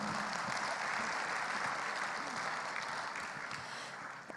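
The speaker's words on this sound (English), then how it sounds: "let us give them a big round of applause and say thank you." Conference audience applauding at an event on beating plastic pollution, a steady, fairly quiet wash of clapping that holds evenly for about four seconds before a brief louder bump at the end.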